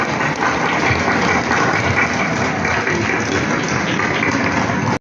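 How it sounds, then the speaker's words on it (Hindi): Sustained applause from an audience at an all-Pakistan Allama Iqbal award ceremimony, welcoming an award winner; dense, steady clapping fills the whole stretch at even loudness and stops abruptly at the end. "भरपूर तालियों से इस्तकबाल कीजिएगा शफकत रसूल मिर्जा साहब।"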